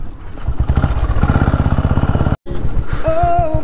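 A motorcycle engine chugging along a bumpy, unpaved road under construction, a loud throbbing beat with one abrupt cut-out near the middle before the rumble resumes.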